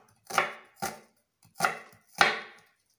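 Onion sliced thinly with a knife on a board: four crisp chopping strokes in an even rhythm, close and fairly loud, with no voices.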